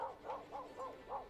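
A dog in Kimetsu no Yaiba: Hinokami Chronicles gives five rhythmic, evenly spaced yipping barks in quick succession, fairly clear and with no talk over them.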